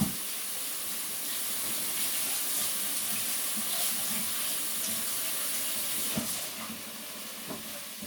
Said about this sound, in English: I'm going to just rinse these again. Give them a thorough rinse.